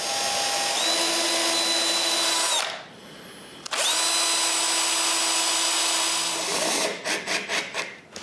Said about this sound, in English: Then I can pre-drill the door.